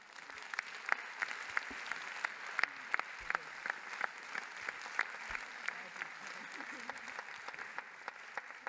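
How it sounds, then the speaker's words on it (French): An audience applauds steadily for several seconds with sharp, dense clapping that stays even throughout and has no voices over it. "Akiko, on peut encore vous applaudir."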